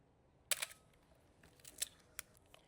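A film camera's shutter fires during an outdoor maternity photo session in Sarasota, Florida: several sharp, close clicks spaced irregularly, one loud and the rest softer, over quiet ambience.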